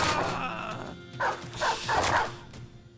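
A war dog in a multiplayer war video game barks several times in quick succession, mid-distance, over a low rumbling game backdrop.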